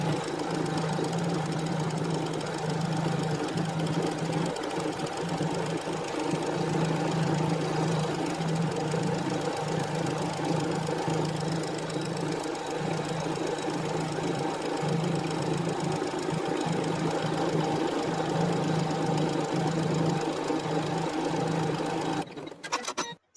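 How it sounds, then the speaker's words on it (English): An Elna eXpressive 850 embroidery machine stitching a design in sped-up playback, a continuous rapid mechanical whirring and clatter that holds steady throughout, then cuts off abruptly at the end. "I just want to quickly show you how the machine finishes the design in a speed up version"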